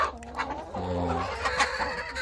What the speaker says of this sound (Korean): 집에서 음, 달걀을 먹기 위해서 이제 기르고 있는 닭들인데요